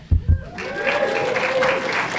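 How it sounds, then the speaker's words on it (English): An audience at a screening of the film Sweet Smell of Success breaks into applause after two sharp thumps, the clapping swelling into a moderate, sustained patter with a tonal whine running beneath it. "This is where you applaud."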